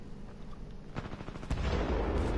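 An amped weapon fires in Titanfall 2, producing a rapid burst of automatic shots followed by a denser, louder rumble of continuous fire, fairly close with no talk over it.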